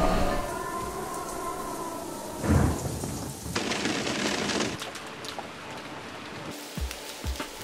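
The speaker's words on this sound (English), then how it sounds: "I think a storm is a coming." A storm rolls in over the coast in Indonesia, with steady rain hiss, a low rumble of thunder and a few sharper bursts, moderately loud and continuous.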